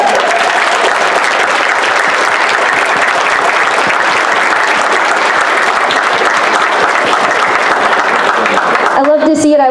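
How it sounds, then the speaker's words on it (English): An audience at an Arkansas Republican Party district meeting gives sustained, loud applause for teenage Republicans, steady clapping throughout before a voice begins speaking at the very end. "Can you guys give them a round of applause?"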